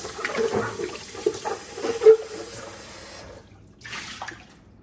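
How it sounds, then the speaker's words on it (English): Tap water splashes briefly into a container, sloshing and gurgling, then cuts off before another short burst of running water. "I just turn on my water. I just want to rinse this out first."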